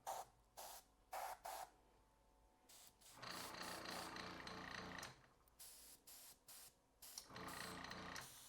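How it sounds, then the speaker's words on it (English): An airbrush sprays paint during a fluffy bumblebee painting lesson, with short bursts of soft airy hissing at first, then longer close spray passes separated by brief pauses, no talking. "I would do that with the airbrush."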